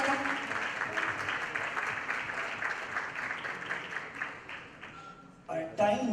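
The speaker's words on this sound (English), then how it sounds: "Big round of applause," Audience applause at a fundraising evening for the medical treatment of underprivileged children: a sustained round of clapping from a crowd that fades out, with a voice speaking briefly near the end.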